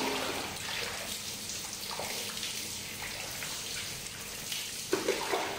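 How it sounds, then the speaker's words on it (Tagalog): Water poured over the body while bathing, a steady watery wash of splashing and running water that continues throughout, fairly faint, with a couple of louder splashes near the end and no talking. "kailangan ko munang buhusan yung katawan ko ng tubig"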